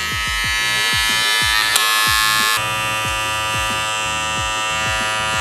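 Electric beard trimmer buzzing steadily while cutting facial hair, a loud close-up motor drone with a brief pitch shift partway through, heard alone.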